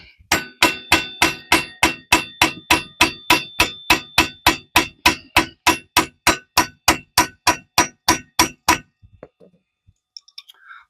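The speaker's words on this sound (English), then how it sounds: "Let's grab a hammer." Hammer repeatedly striking a 1993 motorcycle drive chain master link during a teardown, about thirty sharp metallic clanks in a steady rhythm, close and loud, then stopping into near silence.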